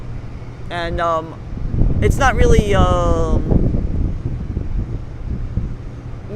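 Steady broadband wind buffets the microphone on a Manhattan rooftop at night, with a low rumbling roar running beneath people talking throughout.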